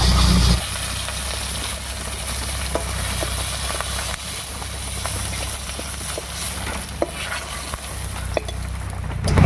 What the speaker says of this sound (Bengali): একবার নামিয়ে নিয়ে মাছের ডিমটা ভেজে নেব